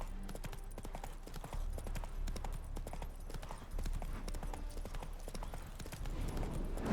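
Roach, Geralt's horse in The Witcher 3, clip-clops steadily along at a walking gait, hoofbeats close and regular throughout under ambient game sound.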